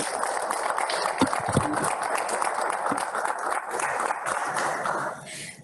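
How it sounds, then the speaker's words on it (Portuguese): An audience at a Portuguese round-table conference on public policy claps for the speakers, a dense patter of many hands that runs steadily, then thins and fades out near the end. "peço, se for possível, para os nossos oradores uma grande salva de palmas"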